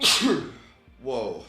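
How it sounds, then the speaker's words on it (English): A single sharp sneeze bursts out close up, followed after a brief pause by a short spoken exclamation. "I'm about to sneeze."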